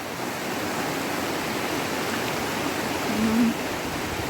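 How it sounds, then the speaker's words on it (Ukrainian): A mountain stream in the Carpathians rushes steadily where it flows into a river, a dense, continuous watery roar with boulders in the current and no other sounds standing out. "Там такі цікаві місця, он струмок такий тече гарний."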